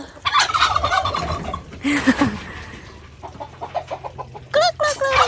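Farmyard turkeys gobble in loud, close, repeated bursts, with chickens clucking among them.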